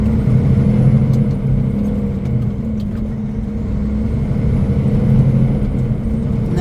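Heavy truck on the Alcan highway, pulling off to stop for a brake check: a steady, loud low engine rumble holds throughout with a faint hiss of air brakes, and nobody speaks.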